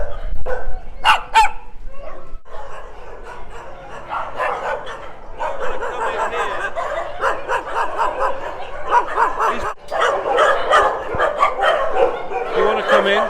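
Small dogs at a shelter dog run in Phuket bark and yip in a dense, continuous chorus close by, with brief gaps, while people talk over the racket.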